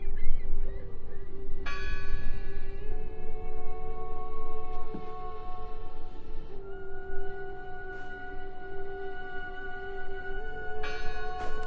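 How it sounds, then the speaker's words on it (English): Bell tolling in the horror adventure game Draugen, several loud ringing strikes with long sustained metallic overtones decaying over a low ambient rumble, one near the start and another near the end. "I heard the bell!"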